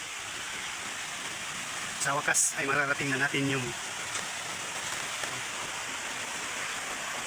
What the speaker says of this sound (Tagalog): Hindi masyadong malakas yung buhos ng tubig, pero maganda siya tingnan.